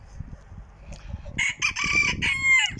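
Domestic geese with young goslings call from close by in a farmyard, first soft low noises, then loud, drawn-out honking cries that repeat in bursts, no talking.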